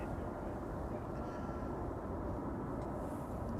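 A KLM Boeing 777-300 on flight 877 departs Schiphol, its engines a faint, distant, steady low roar that persists evenly without voices.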